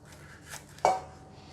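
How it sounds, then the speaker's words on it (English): A knife cuts a leek in half on a cutting board, giving a single faint sharp knock with a softer scrape just before it, quiet and close with no speech. "I'm going to start off with cutting the leek and the potato."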